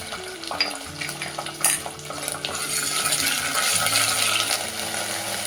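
Curry leaves and ginger-garlic paste sauté in a hot pan, a continuous close sizzle broken by spatula scrapes and clinks against the metal, with no one speaking.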